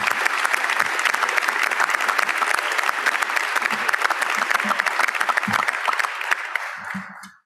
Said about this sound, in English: Let's give these youngsters a round of applause.